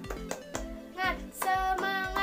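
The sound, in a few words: class doing the 'tepuk semangat' clapping chant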